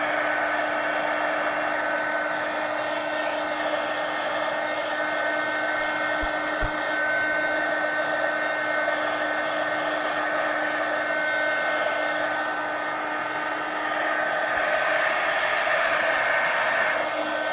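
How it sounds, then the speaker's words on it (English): Heat gun blowing hot air over damp mixed-media napkin journal pages, a steady loud whooshing hum that runs unbroken throughout with no voices. "Let me hit that with the heat gun again."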